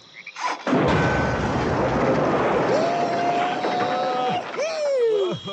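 Explosive charge blowing up a beaver dam of sticks: after a brief lead-in, a loud sudden blast bursts into a sustained roaring rumble of debris, with tonal whistling sweeps layered over it toward the end.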